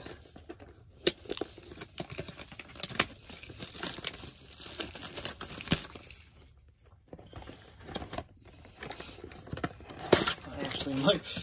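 Foil wrapping and cardboard of a 2020 Panini Legacy football card hobby box being torn and crinkled open, with bursts of ripping and rustling close up, under occasional talk.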